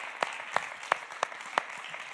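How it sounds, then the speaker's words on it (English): Applause from a conference audience thanking two speakers; a thin, sparse round of a few distinct claps spaced through a steady room murmur. "can I get one more huge round of applause for our two inspirational speakers?"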